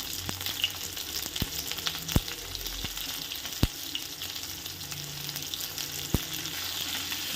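Onions and cumin seeds fry in hot oil for an onion chutney, a continuous close sizzle broken by several sharp taps of a spoon against the pan, with no talking.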